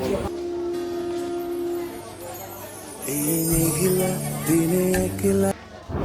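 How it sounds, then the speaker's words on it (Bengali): A passenger train pulls into Kotchandpur station in Bangladesh with a rumbling approach and long, sustained horn-like tones that grow louder about halfway through, close by and mixed with platform bustle. "এর মাঝে আমাদের ট্রেনটা চলে এসেছে"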